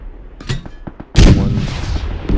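A mortar fires in the video game PUBG, set at a range of about 190 meters, with a few light clicks and thuds leading into a sudden, loud booming blast at 1.2 seconds that rolls on with a long, rumbling echo and debris to the end.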